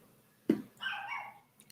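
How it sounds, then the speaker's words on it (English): Two dogs behind a closed door give a muffled bark followed by a longer whining yelp, faint and distant in an otherwise quiet room. "I have 2 dogs outside of this door who are barking right now."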